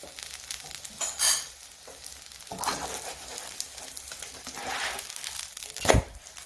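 Potato and egg patty frying in oil in a pan, a steady soft sizzle with crackling bursts and a few louder scraping or crinkling moments, close up with no talking.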